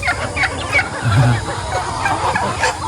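Several chickens cluck close by in short, busy bursts, with soft outdoor background noise around them.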